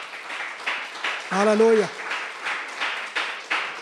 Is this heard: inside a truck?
no